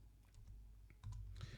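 Keys on a computer keyboard being typed, a soft, quiet run of light clicks spread unevenly over a low background hum.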